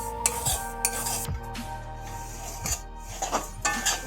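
Semolina, flour and sugar frying in a pan are stirred with a utensil, giving repeated scraping clinks against the metal at close range, with no talk.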